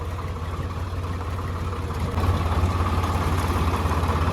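A diesel tractor engine idles with a steady low throb that grows a little louder partway through, running alone without speech.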